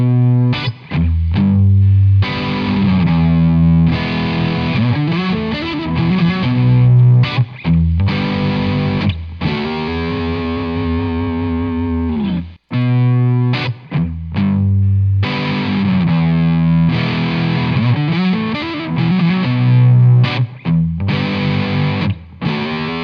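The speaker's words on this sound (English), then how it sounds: "higher gain, plexi kind of sound from this Nu-X pedal" Electric guitar through a Nu-X high-gain plexi-style overdrive pedal plays loud, saturated chords and riffs, heavily distorted, with sustained notes and short pauses between phrases over about twenty seconds.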